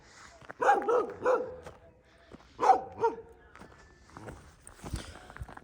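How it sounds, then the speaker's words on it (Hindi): Outdoors on Mushkpuri Top, a mountain in Pakistan, a dog barks in two short bursts of several yips each, near and clear, with footsteps and faint background noise between them. "इसको करने दें भौंकने दे"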